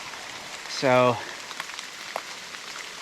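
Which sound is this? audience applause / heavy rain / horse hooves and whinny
heavy rain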